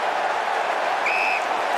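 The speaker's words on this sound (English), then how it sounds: "Crowd loving it." Stadium crowd roaring at an AFL preliminary final between Greater Western Sydney and Western Bulldogs, a dense, steady wash of cheering filling the whole stretch with a faint whistle-like tone rising briefly near the end.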